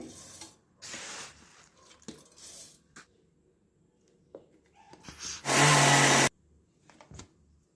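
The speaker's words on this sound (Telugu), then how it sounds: "సగం నువ్వుల్ని లైట్గా మిక్సీ చేసుకోవాలండి" After some clinking and handling noises, a mixer grinder whirs loudly, coarsely grinding sesame seeds in one short burst of under a second, then stops abruptly.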